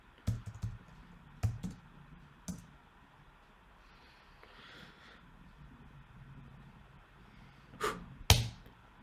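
Computer keyboard typing a PM2 start command, a few sharp isolated key clicks early on, a quiet stretch, then a couple more close clicks near the end.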